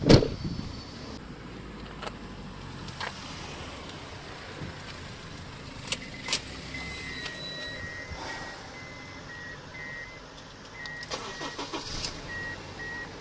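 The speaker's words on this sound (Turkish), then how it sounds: "Şimdi bir marş basalım" A car engine cranks and catches after maintenance work. A brief burst of starter noise at the very beginning settles into a quiet, steady idle, with a few faint clicks and chimes over the remaining seconds.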